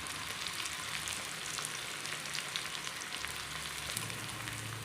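Chopped onion with curry leaves and salt sautéing in coconut oil after popped mustard seeds, for a prawn roast; a steady, close hiss of frying runs throughout, with faint stirring and no voices.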